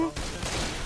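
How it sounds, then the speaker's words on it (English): Short burst of rapid gunfire from a co-op zombie shooter video game, a dense crackle of shots filling under a second, loud and close, with no voices over it. "Okay, Rochelle, I know that was you shooting me."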